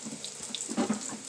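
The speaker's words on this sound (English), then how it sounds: "So I'm going to wash my hands off making the croquettes." Tap water runs steadily into a kitchen sink as hands are rinsed after shaping chicken croquettes, a soft continuous hiss with a few splashy surges, close by and short.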